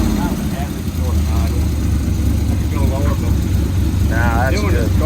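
An old Chevy engine in a rat rod runs steadily, its low rumble filling the cab throughout while people talk over it.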